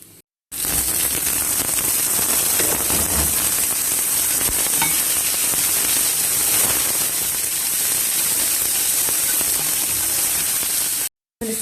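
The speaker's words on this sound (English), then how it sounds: "add the vegetables and stir fry it" Vegetables stir-fried in a pan with garlic and red chili flakes give a loud, continuous sizzle and crackle. It runs unbroken apart from brief silent gaps at the very start and end, with no talking over it.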